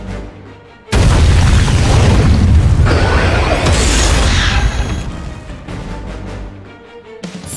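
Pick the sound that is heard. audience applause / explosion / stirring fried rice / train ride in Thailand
explosion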